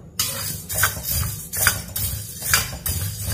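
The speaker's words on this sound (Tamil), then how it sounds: "கருப்பு உளுந்தையும் கடலைப்பருப்பையும் ரெண்டையும் சேர்த்து வறுத்துடலாம்." Black urad dal and chana dal are dry-roasted in a pan, the dry lentils rattling and scraping in repeated bursts about once a second as a spoon turns them, close and clear.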